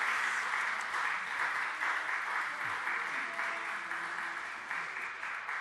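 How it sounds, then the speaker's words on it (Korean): Sustained applause from a church congregation at a Korean Protestant afternoon praise service, celebrating July birthdays; dense, steady clapping that fills the room throughout with a faint voice underneath. "예, 박수."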